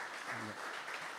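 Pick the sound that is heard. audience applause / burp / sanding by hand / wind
audience applause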